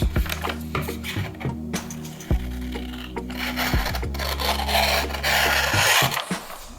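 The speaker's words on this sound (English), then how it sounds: "I'm going to cut this apart." Paper is cut apart to trim a gridded abstract art sheet: close, rough rasping cuts with a few sharp knocks, one steady low hum underneath, and scraping that grows denser toward the end.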